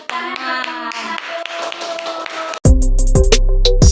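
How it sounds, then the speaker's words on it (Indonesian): An Indonesian elementary science class claps for the winning quiz group. Voices chant with scattered taps and claps, then loud music with a heavy beat cuts in, and the claps carry on over it. "Tepuk tangan semuanya."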